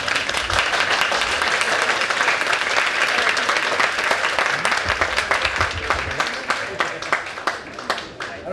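A costume contest audience at a gaming convention in Cusset claps loudly and continuously, a dense, close wash of applause that holds steady throughout and thins slightly toward the end.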